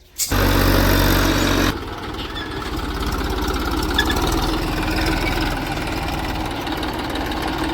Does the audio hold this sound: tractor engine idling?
yes